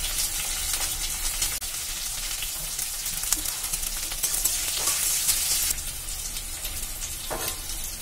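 Egg batter fries in hot oil in a pan for chilli egg, a loud continuous sizzle with crackling bursts and occasional clinks, no voices.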